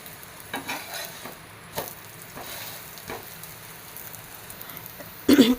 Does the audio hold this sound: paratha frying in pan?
yes